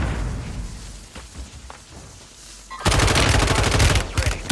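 Close, loud bursts of rapid automatic fire from a Bruin belt-fed light machine gun in Warzone erupt suddenly after a quieter stretch of ambient battle noise and scattered distant shots.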